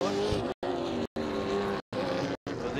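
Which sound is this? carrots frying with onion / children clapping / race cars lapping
race cars lapping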